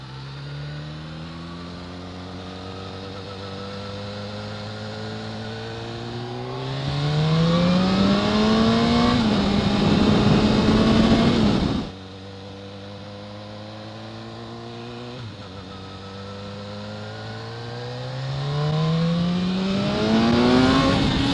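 A car races hard over fairly clean asphalt on stiff suspension, engine revving up through the gears in rising sweeps, loud and close, with a brief drop between shifts before climbing again.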